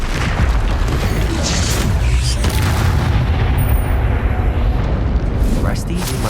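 A Bombarda blasting spell from the Hogwarts Legacy video game erupts in a booming explosion, followed by a rumbling tail of debris and combat noise that persists under a voice.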